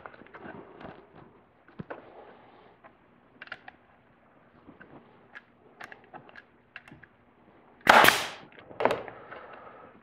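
Staple gun fires into pool table cloth with one sharp loud snap, followed by a smaller click, amid quiet handling and rustling sounds.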